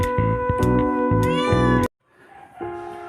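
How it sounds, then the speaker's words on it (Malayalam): A cat gives a long, loud, drawn-out meow close by, then a brief pause, followed by a fainter, shorter meow. "മാറിക്ക് പൂച്ചാണ്."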